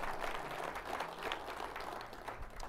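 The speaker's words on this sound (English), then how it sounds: "Feel free to applaud that." Scattered applause from an audience at a city presentation in Eagan, Minnesota, a steady low patter of clapping held at a modest level for a few seconds without voices on top.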